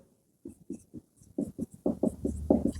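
Pen writing out a sentence on paper for an English grammar lesson, a run of short scratchy strokes that grow denser and louder, close and dry, with no talk over them.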